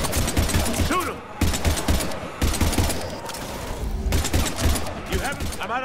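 Heavy gunfire in Mass Effect 3 rattles in rapid, close bursts with short pauses between volleys, mixed with urgent shouted voices throughout the firefight.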